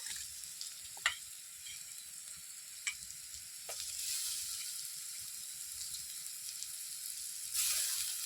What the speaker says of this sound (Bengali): এরপরে রসুন থেতো করা দিয়ে দেবো।